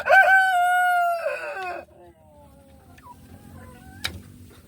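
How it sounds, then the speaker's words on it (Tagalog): A rooster on a small chicken farm crows loudly and close by, one long drawn-out call followed by softer clucks and faint background noise. "Ayan yung tandang."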